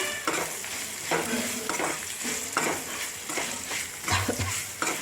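Red chillies fry with turmeric in a pan for roselle flower pickle, a steady sizzle broken by repeated scraping stirs at a regular rhythm, close and fairly loud, with no talking.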